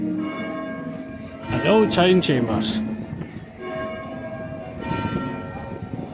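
A church bell chimes the hour in a town in Scotland, heard from a distance as ringing tones under people talking close by outdoors.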